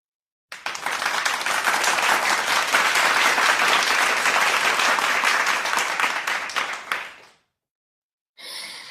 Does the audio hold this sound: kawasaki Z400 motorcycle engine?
no